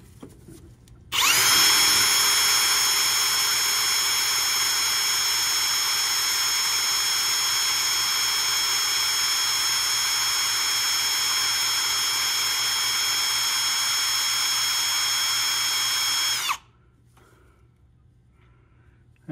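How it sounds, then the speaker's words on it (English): A power drill drilling through hard steel runs continuously at a high, steady whine for about fifteen seconds, loud and close, then stops abruptly. "we're gonna drill a hole in it and we'll see what that does"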